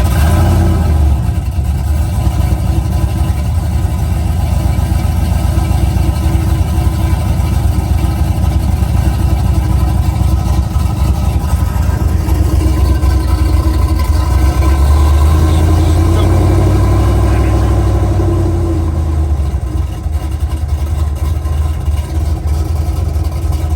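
A Silverado pickup fitted with 15-inch Weld wheels revs its engine to spin the wheels; the deep, loud engine drone swells and climbs in pitch before falling back.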